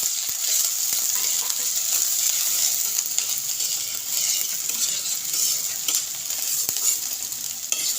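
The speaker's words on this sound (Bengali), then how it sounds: "এবার দিয়ে দিচ্ছি পেঁয়াজ কুচি আর দিচ্ছি লঙ্কা কুচি। পেঁয়াজটা হালকা ভেজে নেব।" Chopped onion and chili fry in hot oil with a constant bright sizzle. Occasional light clicks of stirring sound close by, and no one talks.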